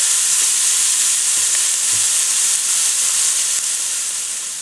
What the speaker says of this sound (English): our onions have been cooking down for about 5 minutes now